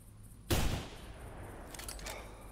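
A single sharp rifle shot rings out close and loud in theHunter Classic during a feral hog hunt, its crack decaying over about a quarter second, followed by quieter ambient rumble and a faint later noise.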